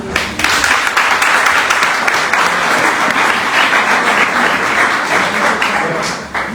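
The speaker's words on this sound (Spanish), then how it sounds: "Un aplauso, hermana." A church congregation applauds a sister during a sermon, loud, close, dense clapping from many people that runs steadily for several seconds before easing slightly at the end.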